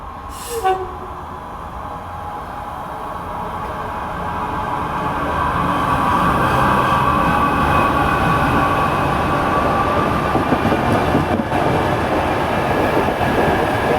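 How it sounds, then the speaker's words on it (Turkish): A passenger train at Naldöken station in İzmir, Turkey, gives a brief horn blast. It then approaches and rumbles past close by, the clatter of wheels on the rails swelling and holding loud for several seconds. "Şu an 68 bin yolcu treni geliyor."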